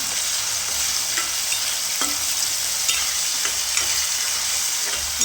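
Urad dal sizzling steadily in hot oil in a pan while being cooked for upma, with a dense continuous frying hiss and a few soft stirring clinks, close and with no voices.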